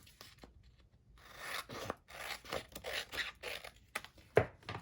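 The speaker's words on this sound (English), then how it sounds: "And then we will trim it down on the side." Paper pages for a handmade journal are trimmed along one side, giving a series of short scraping, rasping cuts with brief pauses and soft taps, close and fairly quiet.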